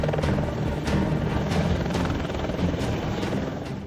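A helicopter's rotor thumps in a rapid steady chop over a loud engine roar, close and constant for a few seconds.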